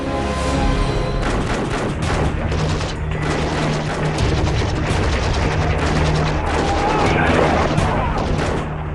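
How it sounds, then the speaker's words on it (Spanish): Sustained, dense gunfire from inside a building crackles and booms continuously and loudly, with rapid overlapping bursts and a low rumble throughout. "De pronto, suenan disparos procedentes del interior."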